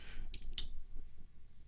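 Two quick, crisp snips of the tiny scissors on a Victorinox Swiss Tool Spirit X Plus, close and fairly quiet, against near silence.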